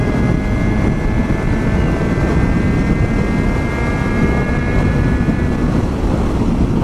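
A Suzuki Bandit 650 motorcycle pulling hard in sixth gear, its engine a steady roaring drone buried under heavy wind rush, continuous and loud throughout.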